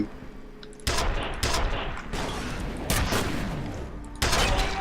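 Bursts of gunfire in the video game F.E.A.R.: four or five loud, close volleys of rapid shots, each starting abruptly and rolling on for a moment, with no talking.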